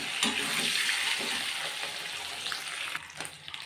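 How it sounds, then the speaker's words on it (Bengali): Duck eggs fry in hot oil seasoned with turmeric and salt, giving a close, steady sizzling hiss with a few stirring scrapes and no talk. "এখন এটা ভালো করে ভেজে নেব,"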